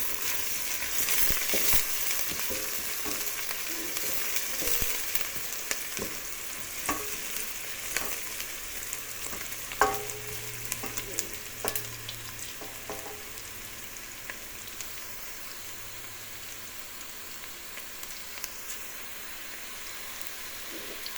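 Vegetables for broccoli soup sizzle and fry in a pot, with a steady hiss and occasional stirring knocks and scrapes, close and moderately loud, with no talking.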